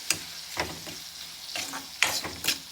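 Onion and red chillies fry in a pan, with a steady sizzle broken by several sharp spatula stirs and scrapes against the metal, close and fairly loud, with no voices.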